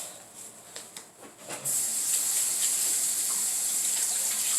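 Tap water running in a kitchen sink while green onions are washed, a steady loud hiss of flowing water starting suddenly after a few soft handling clicks and continuing.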